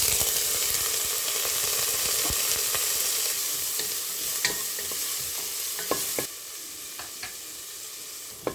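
Onions sautéing in a pot for a Filipino pork-rib soup, a steady close sizzle with scattered scraping stirs and clicks of a utensil, continuing alone without voices.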